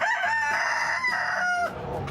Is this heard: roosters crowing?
yes